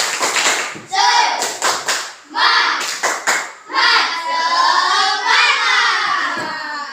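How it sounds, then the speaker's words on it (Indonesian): Schoolchildren in a class clapping a rhythmic patterned chant together, short clusters of sharp claps broken by group voices chanting and calling out between them. "kalau semangat kita coba tepuk semangat dulu"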